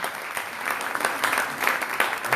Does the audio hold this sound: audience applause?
yes